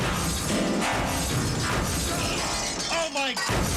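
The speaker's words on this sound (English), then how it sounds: "They just smashed the piano." A piano is smashed by movers while it is being loaded onto a truck, a loud, dense crashing and splintering clatter that runs throughout, with people's voices and exclamations mixed in.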